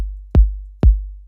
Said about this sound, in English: First layer is an 808 kick